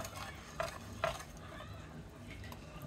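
Bread batter being stirred and mixed in a bowl, soft scraping and swishing strokes with two louder clinks of the utensil against the side, close and steady.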